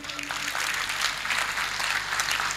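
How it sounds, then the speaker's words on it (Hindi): An audience at a Hindi kavi sammelan poetry recital applauds, a dense steady wash of clapping that fills the hall throughout. "तालियां बजाइए"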